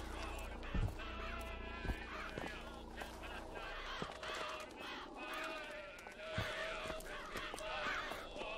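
Crows caw repeatedly among dense bird calls in the BioShock Infinite game world, with sharp bursts standing out over a busy, continuous layer of ambient game sound.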